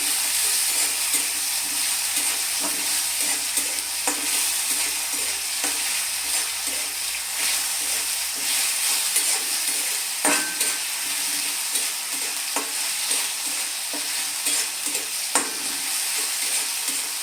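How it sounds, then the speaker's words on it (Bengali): Ginger garlic paste stir-frying in a pan for jackfruit kalia, a continuous close sizzle with repeated spatula scrapes and knocks at an irregular rhythm, no voices over it. "কাঁচা গন্ধ না যতক্ষণ না চলে যাচ্ছে আদা রসুনে, ততক্ষণ আমি এটা একটু কষিয়ে নিচ্ছি"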